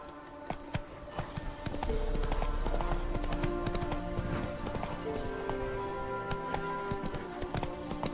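Roach, a horse in The Witcher 3, gallops with steady rhythmic hoofbeats that grow louder after the first two seconds, backed by game music and ambience.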